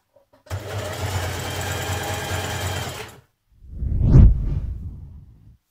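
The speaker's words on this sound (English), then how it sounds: "2 lines of stitching on the top, and you'll get a zigzag effect again underneath" Sewing machine stitching jersey fabric for a Burda 6059 tee, running steadily for about three seconds, then a second louder burst that swells and fades; close and loud with no talking.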